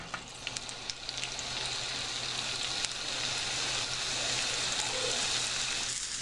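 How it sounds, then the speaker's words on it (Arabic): Beef steak searing in olive oil in a frying pan, a steady close sizzle and crackle with a few sharp pops at the start, running without pause. "رح ضيف زيت الزيتون. هلا رح اوضع هيدي اللحمة"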